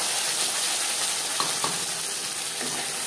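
Mustard, coconut, green chilli and yogurt paste frying with nigella seeds in hot oil, a steady dense sizzle with faint stirring clicks, no voices.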